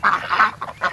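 Farm ducks quack loudly and close by in a quick run of four raspy calls within about a second.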